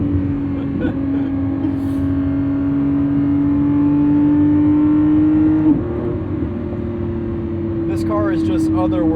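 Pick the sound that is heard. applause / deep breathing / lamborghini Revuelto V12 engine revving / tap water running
lamborghini Revuelto V12 engine revving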